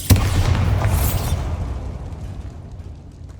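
A Bombarda spell in Hogwarts Legacy bursts with a sudden close boom and crackling debris, then the rumble fades away over a few seconds, with no voices.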